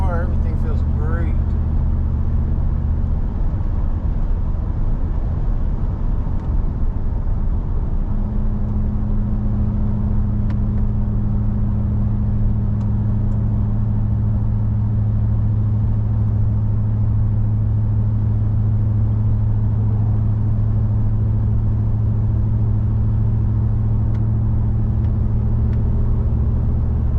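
2008 Chevrolet TrailBlazer SS with a rebuilt engine driving on the road, a continuous loud rumble whose pitch climbs and then settles into a steadier drone as it accelerates and shifts, heard from inside with occasional talk.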